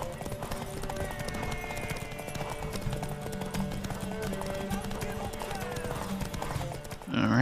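A horse's hooves clip-clop at a steady trot in the video game The Witcher 3: Wild Hunt, a continuous rhythmic beat under ambient music and game sounds.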